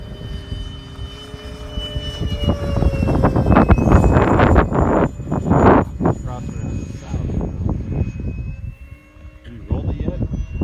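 A small engine on a park-scale Martin B-57 model airplane whines at high power, growing louder as it passes overhead, with people talking nearby and some wind noise.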